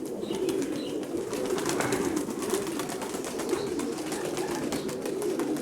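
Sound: pigeons

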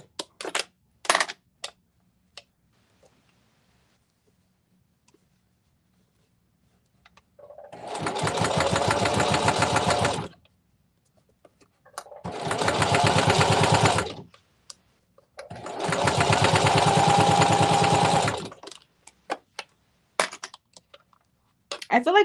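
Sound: sewing machine stitching

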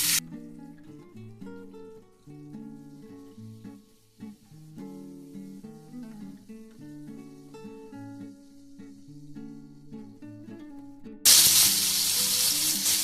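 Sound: chopped tomatoes added to hot pan, sizzling

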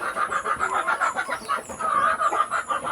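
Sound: hungry pet chickens calling noisily

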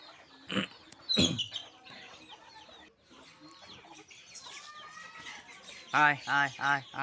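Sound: domestic chickens clucking while eating

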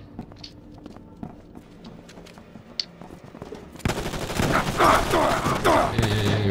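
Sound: gunfire in a video game

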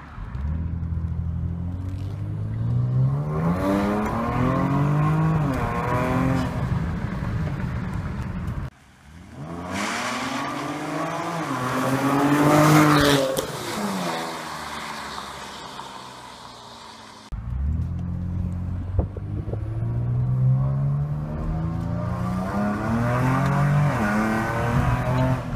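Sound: 2014 Ford Taurus SHO with Corsa cat-back exhaust revving

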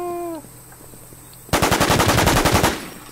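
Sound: gunfire in the video game The War Z

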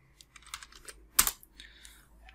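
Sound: typing on a computer keyboard

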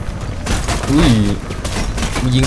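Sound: gunfire shooting at player in video game Mirror's Edge

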